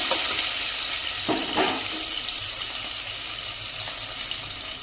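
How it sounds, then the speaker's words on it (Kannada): Green chilies fry in a pan for a Kannada home-cooked recipe, a soft steady sizzle with a couple of brief louder bursts early on, then settling into a quiet hiss. "ನಾನು ಒಂದು 5ರಿಂದ 6 ಹಸಿಮೆಣಸಿನಕಾಯಿ ಹಾಕ್ತೀನಿ. ಇದು ಸ್ವಲ್ಪ ಫ್ರೈ ಆಗಲಿ."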